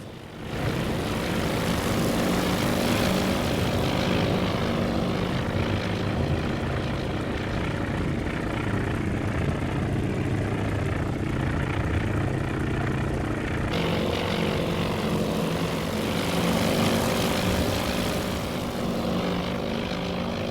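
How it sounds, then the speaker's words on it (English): Propeller aircraft engines roar steadily as planes take off from an aircraft carrier in the naval strategy game Task Force Admiral, a loud continuous drone that swells and holds throughout. "The planes are taking off."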